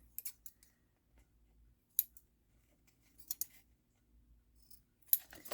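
Scissors snip through envelope paper in a few crisp bursts of cuts, close and fairly quiet, with pauses between them and no talking.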